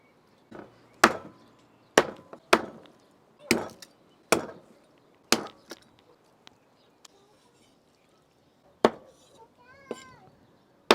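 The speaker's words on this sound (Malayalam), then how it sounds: "അപ്പോൾ നമ്മുടെ ടർക്കിനെ നമ്മൾ വെട്ടി നല്ല കിടിവാക്കി വെച്ചിട്ടുണ്ടേ" Wild turkey meat is chopped into pieces with a heavy blade on a wooden surface, a series of sharp, loud, well-spaced thwacks with quiet gaps between, and faint outdoor background sounds.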